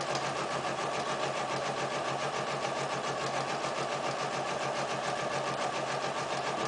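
Sewing machine running steadily through a zigzag stitch along a fabric sleeve toward the wrist, a continuous, even mechanical whir with a fast repetitive pulse and no talk.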